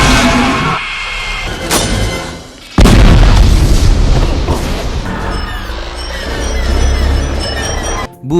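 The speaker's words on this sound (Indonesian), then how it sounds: "Bahkan pintu sampai meledak, pecah rekor sih." Door exploding in the animated film Monsters University: an abrupt boom and crash, a brief quieter stretch, then a second loud blast followed by sustained roaring, rumbling debris and crackling that fades near the end.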